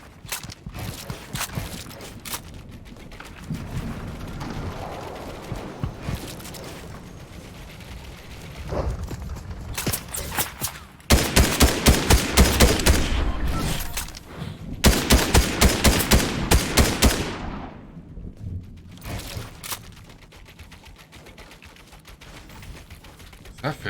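Gunfire in a Fortnite-style battle royale match, with repeated loud bursts of rapid automatic shots and single cracks, dense volleys in the middle, and faint footsteps and clatter between them.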